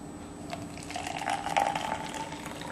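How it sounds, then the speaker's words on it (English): Boiling water is poured into a small glass vial up to its neck during a lab preparation, giving a steady, moderately quiet liquid pouring and filling sound that runs throughout with a slight rise in the middle. "is I'm going to pour in the boiling water up to the neck"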